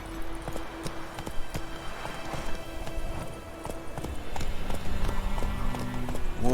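A horse gallops in The Witcher 3, its hoofbeats a steady repeated clatter set in a busy game soundscape with a low hum and rising noise toward the end.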